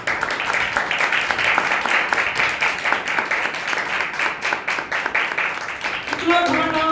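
Congregation clapping hands in praise during a church service, a dense, steady wash of many hands continuing for several seconds with voices mixed in, then a brief tonal voice near the end.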